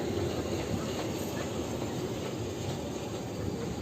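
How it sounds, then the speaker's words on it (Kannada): A small toy train passes at Shivagiri railway station with a steady, rumbling roar and faint rattling of the cars, fairly loud and continuous throughout, with no talking. "ಈ ಒಂದು ಖಾಲಿ ಟ್ರೈನ್ ಹೋಯ್ತು ಮಿಸ್ ಆಯ್ತು ರೀ"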